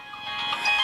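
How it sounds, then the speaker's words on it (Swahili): A phone ringtone chimes clearly for a brief moment, a bright tonal ring close by with no talking. "Unasikia simu?"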